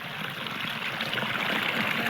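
Stream water below a dam flows in a steady, broad, hissing rush, close and continuous with no talk.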